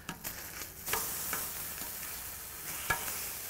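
Ribeye steaks searing on a flattop griddle at about 350 degrees, a steady close hiss of frying fat with soft crackles, plus a few light scraping and tapping sounds from a utensil on the hot steel.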